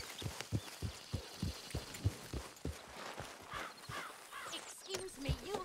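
Hooves clip-clopping from a horse in a Western video game, a steady run of muffled beats at walking pace, with faint background sounds and a brief tonal snort or whinny toward the end.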